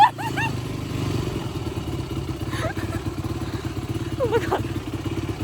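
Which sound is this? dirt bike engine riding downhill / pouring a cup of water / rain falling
dirt bike engine riding downhill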